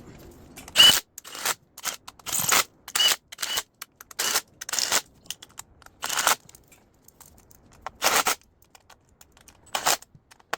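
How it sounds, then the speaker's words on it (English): Bolts being tightened on an Infiniti FX35/G35 valve cover, a series of short, sharp ratcheting bursts close by, about a dozen spaced through the stretch with quiet gaps between, no talking. "let's tighten the bolt. Just tighten them all up."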